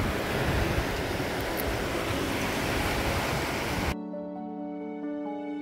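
Ocean surf washes onto the beach at Myrtle Beach, South Carolina, a loud, broad, rushing roar lasting about four seconds before cutting abruptly to a quieter, tonal sound.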